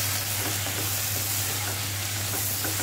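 Chana chilli sizzling loudly in a pan as vinegar is added, a dense, steady hiss of frying that stays close and constant throughout, with no talking.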